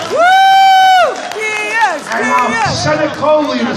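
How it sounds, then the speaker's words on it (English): A crowd at a Bronx Day gathering in Albany cheers and applauds for Bronx Borough President Ruben Diaz, with a loud sustained shout opening over clapping, then continued whoops and cheers and some voices mixed in. "This is Outbound President Ruben Diaz, a big round of applause."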